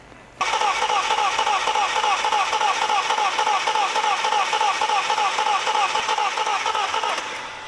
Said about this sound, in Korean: 엔진 소리가 보통 있는 크랭킹 소리하고 좀 틀려요.